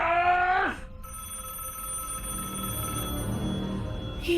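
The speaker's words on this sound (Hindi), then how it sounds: "ये कोई नॉर्मल टेलीफोन नहीं, ये हॉन्टेड टेलीफोन है।" A haunted telephone in a horror game gives a short electronic ringing burst at the start, followed by sustained eerie tones, with another brief ring at the end.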